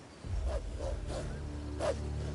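Hungry wolves in the video game Black Desert Online growl and snarl in a few short, rough bursts over steady background game music.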